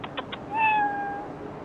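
A pet cat named Whiskers lets out a clear meow lasting about half a second, close and fairly loud, preceded by a few short faint clicks, with no talking over it.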